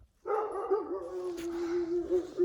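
Dogs in a snowy backyard after the 2021 ice storm let out a single drawn-out, whining bark that holds steady for about two seconds, close and fairly clear.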